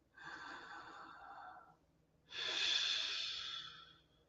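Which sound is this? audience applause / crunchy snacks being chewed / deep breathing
deep breathing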